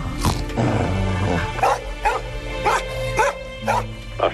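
A dog lets out repeated sharp barks and yips mixed with whimpers, close and fairly loud, in an uneven rhythm across the stretch, with no clear talking over it.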